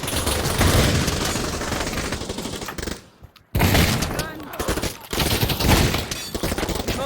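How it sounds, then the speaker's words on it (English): Rapid machine-gun bursts from the VR shooter Pavlov rattle loudly and densely, broken by a brief silence midway before the sustained automatic fire resumes and continues to the end. "now I have a machine gun"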